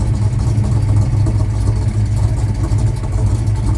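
A car engine idles through Dynamax Ultra Flow mufflers with tailpipes. The exhaust gives a loud, steady, low rumble with no revving and no talk over it.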